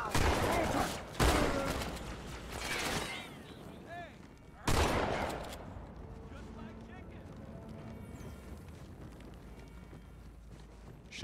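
Shotgun and other gunfire from the Halo 2 video game, loud broadband blasts at the start and again near five seconds, with game voices and background battle noise continuing between the shots.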